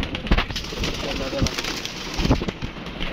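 Pigeons coo low and soft in a stormy, windy, rustling background, with a few dull thumps and a voice faintly in the mix.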